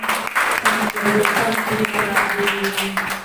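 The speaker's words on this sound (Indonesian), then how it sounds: "berikan aplaus buat teman-teman ini" Applause from an audience at a university KKN community-service briefing seminar: a dense, steady patter of clapping runs throughout, mixed with voices and a faint tonal hum in the room.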